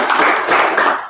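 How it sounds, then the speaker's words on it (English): Audience applauding the sponsors at a live music event, a steady dense wash of clapping from many hands that fills the short moment and fades slightly at the end, with no talk over it. "So a round of applause for all of y'all."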